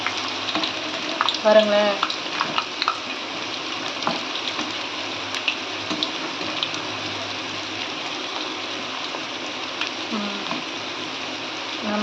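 Small onion bondas fry in hot oil with a steady, even sizzle throughout, while a few brief clinks and stirring sounds mark them being turned; a voice speaks briefly over the frying.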